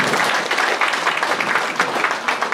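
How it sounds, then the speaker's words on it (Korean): Crowd applause at a campaign office opening ceremony after a church pastor's congratulatory speech: a thick, continuous wash of many people clapping, fairly loud and close, sustained evenly for a couple of seconds. "박수 좀 해주세요."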